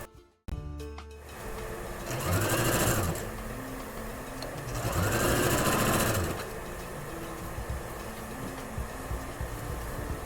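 Sewing machine stitching a sleeve onto an old denim jeans jacket, running in two sustained bursts of steady mechanical whirring separated by quieter pauses, loud and close.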